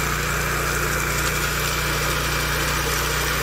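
An MBW 36-inch high-torque, high-RPM power trowel engine runs steadily at close range. It gives a loud, constant whine and drone with no talking.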